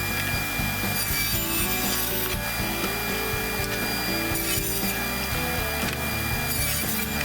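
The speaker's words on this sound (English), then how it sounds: "To make the miter joints for the boxes, I used my table saw with the blade tilted to 45 degrees." Table saw with its blade tilted to 45 degrees ripping wooden miter joints for box shelves, a steady loud whining cut with grinding wood noise running continuously throughout without any talk.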